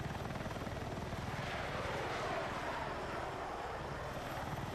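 Helicopter flying overhead in a video game, a steady rhythmic rotor chop with a droning engine, constant and fairly close throughout.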